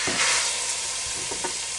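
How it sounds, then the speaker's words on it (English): Ground hamburger meat, started from frozen, browns in a hot pan with a steady sizzle and frying hiss, broken by a few soft scrapes and stirs of a utensil close by. "I'm just browning this hamburger meat right now."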